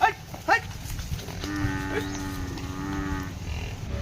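A water buffalo gives one long, low, droning moo lasting about two seconds, fairly close and clear over steady outdoor background noise, with a couple of short knocks just before it and no talking.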